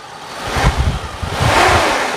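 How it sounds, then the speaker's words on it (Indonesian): A 1993 Suzuki Katana GX with its F10A engine is revved, a loud, close rumble that surges and eases twice, blurred by gusty wind noise. "Kita geber pun suaranya masih enak, masih halus, masih aman."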